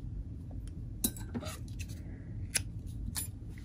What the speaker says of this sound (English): I'm going to pull the yarn through and then cut it.